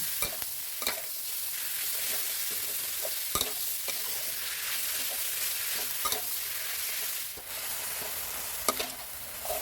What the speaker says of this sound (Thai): ผัดพริกกับกระเทียมพอส่งกลิ่นหอมแล้วเราก็จะนำเนื้อลงมาผัดรวมนะครับ